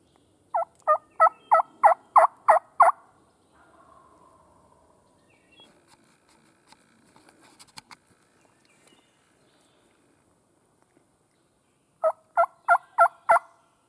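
A wild turkey on public land in South Carolina gobbles in a loud rapid burst of about seven notes, then near silence with faint rustles, then another short rattling burst of gobbles at the end.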